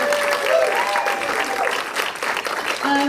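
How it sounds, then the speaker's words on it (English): A film screening audience claps steadily in a short, dense burst of applause that fills the room, with faint voices mixed in. "which I think is worth a round of applause as well"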